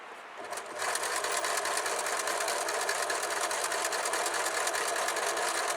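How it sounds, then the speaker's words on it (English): A sewing machine runs steadily while stitching a quarter-inch patchwork seam, a fast, even mechanical whir and rattle that starts up within the first second and continues at constant speed. Fairly quiet and close, with no talking. "now I'm doing this 1/4 inch seam right up to the point where this seam finishes"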